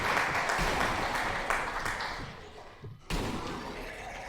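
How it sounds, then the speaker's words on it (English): Applause inside a video game, a dense broadband clapping wash that fades down briefly near the end before swelling back, with no speech over it. "Thank you for the applause."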